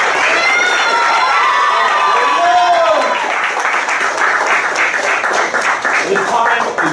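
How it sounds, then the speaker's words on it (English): A martial arts class at a dojo's end-of-year gathering breaks into loud, close applause, with whoops and cheers rising over the clapping at first before it settles into steady clapping. "So let's give ourselves a round of applause."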